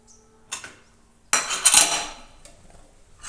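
A metal cooking pot clanks down onto a gas stove with a sharp knock, then scrapes and rattles briefly before settling.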